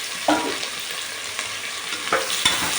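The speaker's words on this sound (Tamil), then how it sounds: "இந்த வெங்காயம் வதங்கட்டும்." Five large sliced onions frying in hot oil for chicken biryani, a steady bright sizzle with occasional louder stirring scrapes, close and alone with no voices.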